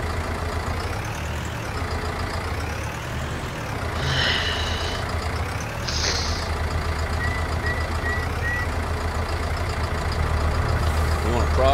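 A truck backs up with a light, empty trailer while its engine idles steadily and short reversing beeps sound in brief bursts. People talk nearby.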